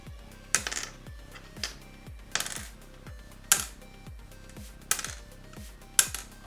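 Imitation ceramic keycaps, lacquer-coated, being tapped one after another give a series of bright, sharp clicks with light rattles in a quiet room, close and fairly soft, with no one talking.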